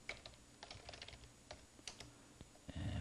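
Close, quiet clicking of computer keyboard keys as accounting entries are typed, irregular taps and short bursts ending with a firmer keystroke, with no voice over them.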